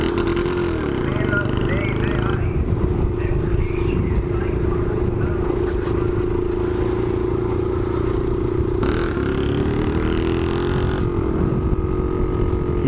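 A small Shineray motorcycle engine is started and runs with a steady buzzing drone, loud and close, with scraping clatter and voices talking over it.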